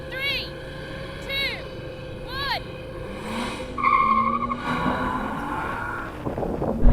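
BMW M5 cars from different generations launch in a drag race, revving engines rising to a loud roar near the end, with tire noise and people talking and calling out over the start.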